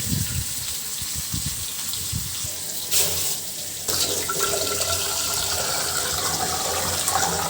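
Tap water gushes steadily into a kitchen pot while rice is rinsed, a close, continuous splashing flow with a brief surge partway through and no speech.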